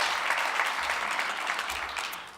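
An audience at a sustainable finance conference applauds with steady clapping from many hands over a short stretch, thinning out toward the end.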